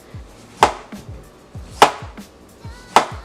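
A knife chops cucumber on a board in three sharp, evenly spaced strokes, close and clear, with a quiet background.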